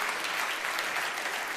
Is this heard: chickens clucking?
no